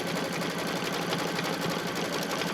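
A home embroidery machine stitches an in-the-hoop quilted appliqué placemat, its needle running in a fast, steady mechanical whir close by, with no talking.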